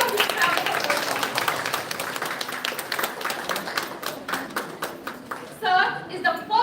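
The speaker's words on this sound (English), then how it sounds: "Please give a big round of applause." An audience at a university seminar's inaugural session applauds the chief guest, a vice chancellor, with scattered clapping that thins out, while voices talk over it near the end.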